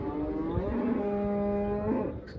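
A cow that has calved four times lets out one long, drawn-out moo at the Shymkent livestock market, steady and fairly close, fading off at the end.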